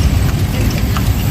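Hooves of a large horse pulling a kalesa carriage at Luneta clop steadily under dense low rumbling street noise, with no talking.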